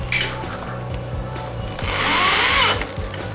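A power drill drives self-drilling screws into a workshop tool organizer panel, its motor whining steadily and then rising in a loud, sustained burst near the end, with no talk.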